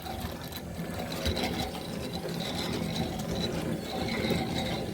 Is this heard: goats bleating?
no